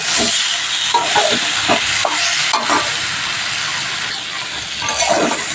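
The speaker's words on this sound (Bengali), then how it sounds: "পরিমাণ মতন লবণ দিয়ে দিলাম দিয়ে মশলাটা কষিয়ে দিতে হবে" Spice paste with cumin and salt stirred and sautéed in a pan for a healthy vegetable recipe: a steady close sizzle with repeated scraping strokes of the spoon, loud and continuous, no talking.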